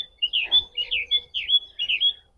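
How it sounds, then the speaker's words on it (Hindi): A small bird calls close by with a quick series of sweet, high chirps, about seven notes in an even rhythm, with faint low rumbling underneath. "अच्छी चिड़िया आवाज़ दे रही है।"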